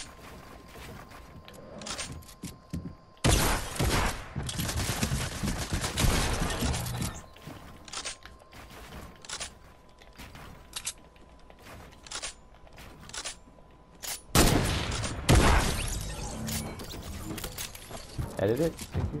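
Bursts of gunfire in Fortnite season 10 on console: two loud, dense volleys lasting a few seconds each, with scattered single shots in between, while people talk throughout.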